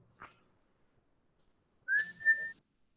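A person whistles a single sustained, steady tone with a slight rise, preceded by a brief breathy puff, heard alone and close in a quiet room.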